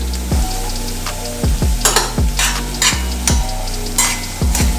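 Carrots are stirred into a hot, sizzling pan for a Jamaican beef kidney stew, with a steady fry hiss and a spoon scraping in regular strokes about once a second, close and fairly loud.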